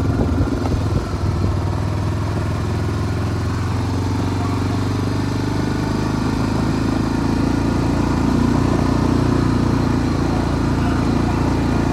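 A farm motorbike engine idles steadily and close by at a farm mart, a constant low rumble that holds for the whole stretch with no talk over it.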